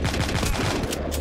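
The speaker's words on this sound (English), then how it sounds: "Mr. Minigun turret there. Putting in some solid damage on us." Minigun turret firing in the video game The Walking Zombie 2, a dense continuous burst of rapid gunfire filling the whole moment, loud and unbroken.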